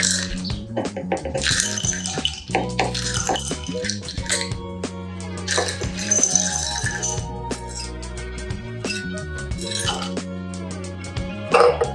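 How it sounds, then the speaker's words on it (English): Ice cubes clatter and clink into cups of milk tea in several rattling bursts, close and bright, with no talking. "And then I'm going to add a cup of ice to each drink."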